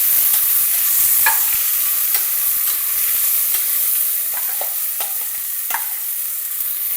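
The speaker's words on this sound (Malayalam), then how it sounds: "ഇനി നമ്മൾ അതിലോട്ട് സവാള ഇടാണ്. നമ്മൾ ബിരിയാണി ഉണ്ടാക്കാനുള്ള സവാള." Sliced onions for biryani frying in a pot: a steady, soft sizzle with occasional light stirring clinks and scrapes, no voices.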